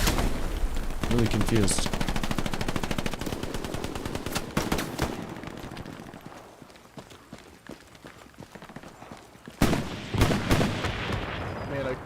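Gunfire rattles through a video game battle in dense, rapid bursts of close shots with heavy booms mixed in, then drops away briefly before more shooting returns, while someone speaks over it.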